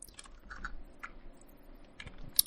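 Light, irregular taps of typing on a computer keyboard while entering a profile parameter for NICER spectrum analysis software, close and quiet in an otherwise silent room, with one sharper click near the end.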